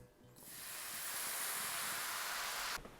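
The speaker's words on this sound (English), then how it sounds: "I just have a pale ale here that I'm gonna pour into the pan." A loud, steady sizzling hiss erupts as pale ale is poured into a hot pan, holding for a few seconds before cutting off abruptly.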